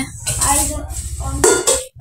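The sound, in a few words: bowl lids clattering as they are shown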